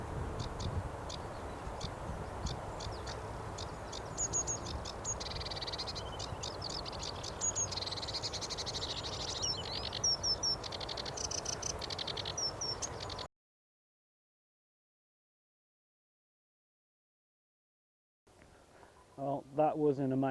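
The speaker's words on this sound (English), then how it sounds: "that was an amazing little session with the Sedge Warbler there" A Sedge Warbler sings on Doxey Marshes, its busy, chattering phrases rising over a steady wash of marsh background. The song stops into a stretch of silence, then a brief rustling follows at the end.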